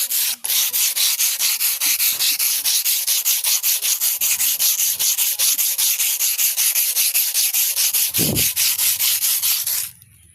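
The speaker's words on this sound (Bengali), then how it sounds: "সামান্য পানি দিয়ে খোসাটাকে এভাবে করে এখন বটিটাকে ঘষতে থাকবো" A rusty kitchen boti blade is scrubbed with a peel, water, sand and powder, giving loud, rapid, rhythmic rasping strokes close up that run steadily for about ten seconds before stopping.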